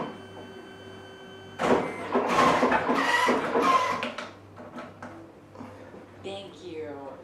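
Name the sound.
printer printing a photo strip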